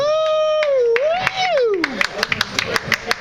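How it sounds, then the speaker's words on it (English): A comedy fundraiser crowd bursts into clapping after a loud sliding tone, the applause building into scattered sharp claps close by. "Let's give it up for Joanne Siriganakis."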